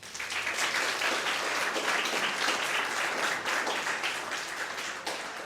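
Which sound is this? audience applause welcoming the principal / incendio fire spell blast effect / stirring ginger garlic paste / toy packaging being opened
audience applause welcoming the principal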